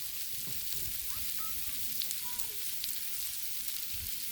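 Sausage fries on a Blackstone griddle with a steady, close, hissing sizzle that holds evenly throughout, with a few faint clicks of stirring.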